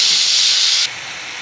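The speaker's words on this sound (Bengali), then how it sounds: "আমি পুঁই শাকগুলো ছেড়ে দিচ্ছি।" Malabar spinach (pui shak) tipped into hot oil in a pan with already-fried vegetables, giving a loud, steady sizzling hiss that suddenly drops to a lower, quieter sizzle partway through, with no talk.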